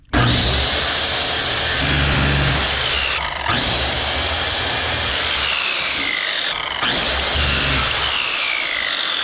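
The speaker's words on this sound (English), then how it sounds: "Cut 4 blocks." A power saw cuts small wood blocks for a raised garden bed floor, heard as three loud, sustained cuts with the blade whining down between passes, close and with no talk.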